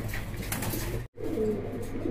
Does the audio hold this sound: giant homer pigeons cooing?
yes